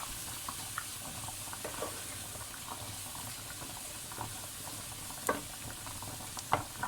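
Quiet curry base of onions and spices braising in a pan before mince is added, giving a soft continuous sizzle with a few small pops and utensil clicks near the end.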